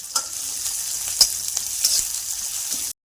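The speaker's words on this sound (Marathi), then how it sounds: "जिरे टाकले की कांदा, हिरवी मिरची टाकायची, छान परतून घ्यायचं" Onion and green chilli sautéing in hot oil with cumin seeds, a steady close sizzle with a few soft spatula scrapes and light pops, alone with no talk.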